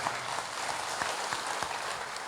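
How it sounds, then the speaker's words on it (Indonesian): An audience applauds at a Santri Day and Heroes' Day commemoration at the Indonesian embassy in Brasília, a dense, moderately distant patter of many hands clapping throughout. "Tepuk tangan untuk para santri."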